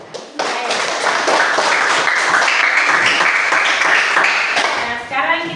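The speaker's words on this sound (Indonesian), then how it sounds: "kita aplaus untuk kelompok 1" An audience in a classroom applauds a student group after its presentation, with loud, dense clapping that swells quickly and holds steady for several seconds before tapering off.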